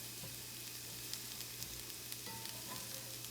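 Hamburger meat with cheese fries in a pan for a Philly cheesesteak, a continuous soft sizzle with scattered stirring scrapes and taps, quiet and close, with no talking.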